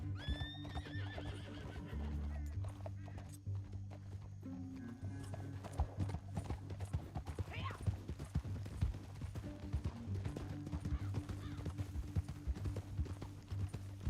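Horses gallop in the video game Red Dead Redemption 2 with steady, rapid hoofbeats and a whinny, over a sustained low musical drone, continuous and fairly near.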